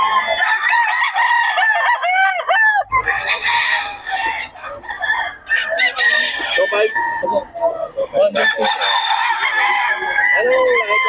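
A Gilmore Hatch gamecock rooster crows repeatedly at a market, its loud cock-a-doodle-doo calls mixed with clucking and nearby voices talking.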